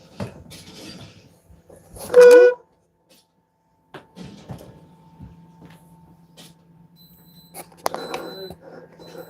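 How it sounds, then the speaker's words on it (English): One loud beep rings out from a device to signal it has been switched on, then faint clatter and quiet background sounds follow. "Is it supposed to be beeping, Ari?"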